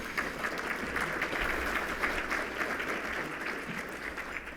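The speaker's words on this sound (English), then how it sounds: "I think that deserves a round of applause." Luncheon audience at a roundtable gathering applauds in a steady, moderately distant wash of many clapping hands, sustained throughout without voices.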